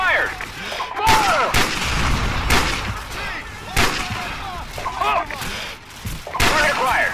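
Tank cannon fire in Call of Duty 4: Modern Warfare makes repeated heavy booms with rumbling echoes, mixed with other battlefield gunfire, and voices shout through the noise.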